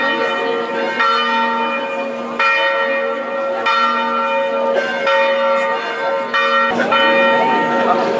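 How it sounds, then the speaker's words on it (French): Church bells ring out steadily, several tones overlapping in a sustained peal with strikes every second or so, loud and resonant. "On s'est fait sonner les cloches."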